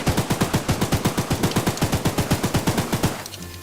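Rapid automatic gunfire in a video game, a steady, loud burst of about twenty evenly spaced shots that stops abruptly, followed by a faint tail.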